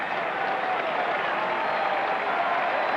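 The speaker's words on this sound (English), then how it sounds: "That was more of a sarcastic token round of applause for finally getting a first" Sellout football stadium crowd at Green Bay giving a modest, sarcastic round of applause for a first down, a steady diffuse wash of clapping and crowd noise at an even level.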